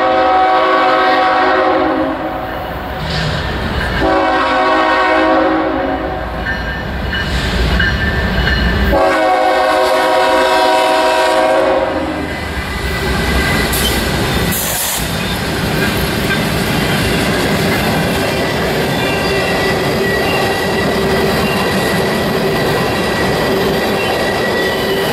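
A passing train hauled by an EMD locomotive gives several loud, long horn blasts close by. The horn gives way to a heavy, continuous rumble of rolling cars with some wheel squeal, and the noise stays loud throughout.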